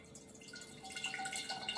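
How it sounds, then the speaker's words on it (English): Coconut water with mango pours into a glass, a faint steady liquid trickle and dripping that grows a little busier partway through, heard alone at close range. "This one I'll get the pour in there."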